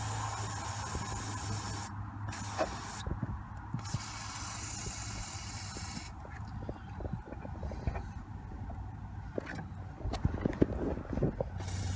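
An aerosol spray can discharging liquid lubricant onto a truck's suspension and body parts, a steady close hiss with brief pauses and some rubbing and handling noises throughout.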